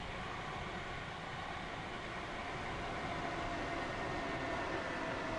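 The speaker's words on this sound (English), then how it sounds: "So we're going downhill now, throttles off, we're just going to coast it." Train in Train Sim World 3 coasting downhill with the throttle off gives a steady rumbling rail roar, an even, unbroken drone with no talk.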